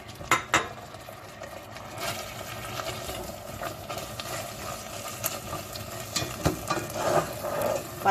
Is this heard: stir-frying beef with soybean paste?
yes